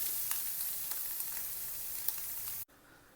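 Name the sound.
eggs scrambling in a hot pan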